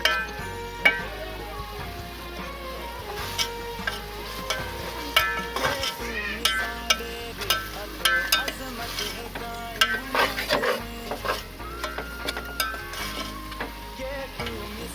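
Vegetables lightly sautéed in a pasta gravy, a steady close sizzle broken by frequent scraping and clacking stirs of a utensil against the pan, with no talk.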